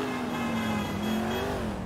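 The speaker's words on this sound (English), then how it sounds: "This car is the American beast" A powerful American muscle-style car in GTA 4 revs its engine, a steady loud droning growl with a slight rise and fall in pitch over a couple of seconds.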